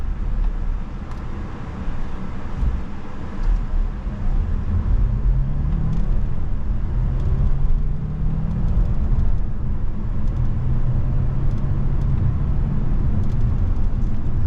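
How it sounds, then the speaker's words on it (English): A 2023 Kia Sportage XLine AWD plug-in hybrid shifting through gears in manual paddle mode: a steady cabin road rumble with an engine tone that climbs, drops and climbs again at each change, with no talking. "Put this in the manual mode, and we'll see how it shifts manually."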